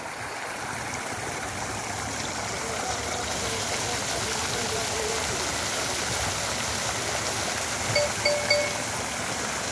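Water pours steadily from a waterfall statue fountain in a park in Odesa, a continuous broad rushing wash with a few faint tones near the end.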